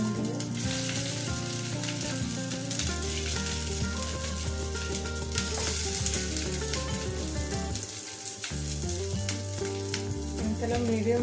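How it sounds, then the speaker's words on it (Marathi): Barnyard millet snacks shallow frying in ghee over a medium flame, a steady close sizzle that runs throughout, mixed with background music and no talking. "त्याला मीडियम फ्लेमवरती फ्राय करून घ्या, म्हणजे छान क्रिस्पी होतात ते."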